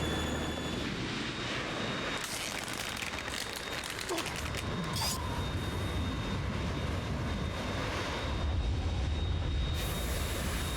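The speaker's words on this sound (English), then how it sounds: "It's the Harrier." A Harrier jet roars steadily in the video game Metal Gear Solid 2, a loud, continuous engine and rotor-like wash filling the scene with brief sharp bursts of gunfire or impacts layered over it.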